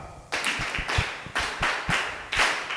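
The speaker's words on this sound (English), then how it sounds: "Can you clap her?" Classroom students clap in a patterned rhythm for a fellow student, a series of sharp grouped claps in regular bursts, near and crisp with no talking.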